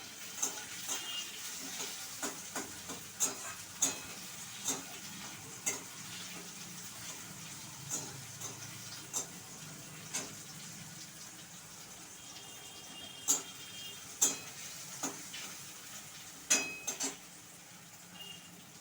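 Onions fry in a wok with a steady, soft sizzle, punctuated by scattered sharp clicks and taps of stirring throughout, with no one talking.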